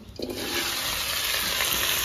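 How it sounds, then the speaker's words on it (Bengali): Taro frying in hot oil in a home kitchen, a steady close hiss and sizzle that starts abruptly and holds evenly, with no talking. "এই তেলে কচু ভেজে দেবো।"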